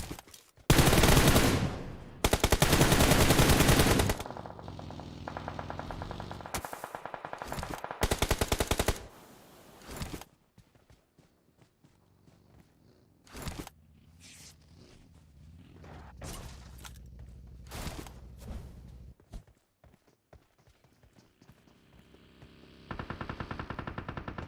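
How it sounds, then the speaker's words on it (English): Gunfire exchanged during a battle royale video game match at a grand finals esports event: loud bursts of rapid automatic fire early on, then scattered, quieter single shots and short volleys, with no talk over them. "some more shots being exchanged"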